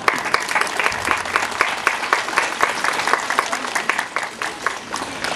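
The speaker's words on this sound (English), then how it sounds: "Let's appreciate the teachers and the students with a loud applause." A crowd at a school sports day applauds steadily, dense clapping continuing evenly for several seconds without a break.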